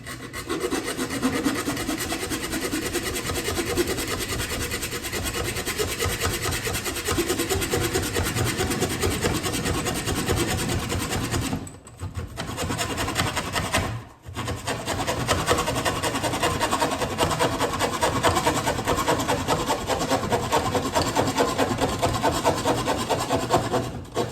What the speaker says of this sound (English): So let's get into it with the Charge, 2-inch pipe, and let's just start going.